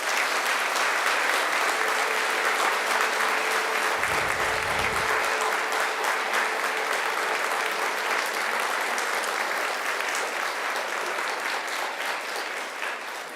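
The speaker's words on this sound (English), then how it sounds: "I invite you now to give them a very mighty round of applause" A large Macquarie graduation audience of families and friends claps for the new graduates in a dense, steady roar of applause that fills the hall and holds at full strength for about thirteen seconds before easing slightly at the end.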